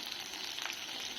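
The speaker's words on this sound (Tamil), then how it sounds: "எண்ணெயும் போட்டு நல்லா கிளறி விட்டுக்கோங்க." Curry leaves, sliced large onions and mustard seeds sizzling in hot oil as they are stirred for tomato thokku, a dense steady crackling hiss, close and continuous, with no talking.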